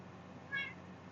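A cat gives one short, quiet meow midway through, set against a low steady background hum.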